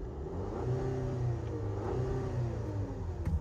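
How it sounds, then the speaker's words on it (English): A VW/Audi 2.0T TSI engine is revved nearby with its hood up: a steady mid-pitched hum rising and falling in several gentle swells, with no one speaking. "Going to go ahead and rev up the engine a bit"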